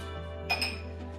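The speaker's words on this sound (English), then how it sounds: "Just doing my dishes." Dishes being washed at home give a couple of light glassy clinks close by over a steady low background hum.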